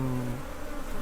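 A dense, steady drone of many bees buzzing together, a low continuous hum heard close and alone.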